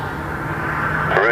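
A jet roars as it begins its takeoff roll on runway 23 at Toronto Pearson Airport, a loud, steady rumble that swells toward the end, with radio chatter over it.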